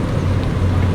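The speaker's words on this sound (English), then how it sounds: "There's a car, Dad." A car passes close by on a Southeast DC street, a steady low engine and road rumble that stays loud through the whole brief moment.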